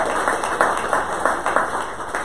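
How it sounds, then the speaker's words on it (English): A small audience at a sales meeting applauds a speaker, a brisk patter of clapping hands that holds steady for a couple of seconds, fairly close and without voices. "Y'all give Bobby a round of applause"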